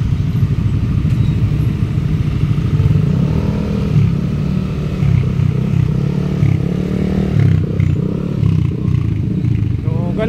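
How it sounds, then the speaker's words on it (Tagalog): Heavy evening traffic from Marikina City to Montalban, Rizal, with many motorcycles idling and creeping along, a constant low engine drone with occasional revs and clatter close around. "So ayan yung mga motor mga guwiks na sobrang dami no."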